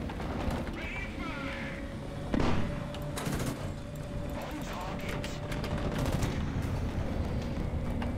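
Tank cannon and machine-gun fire rattles in the War Thunder battle game, with a sharp loud shot near the start among mechanical clanks, under a voice talking.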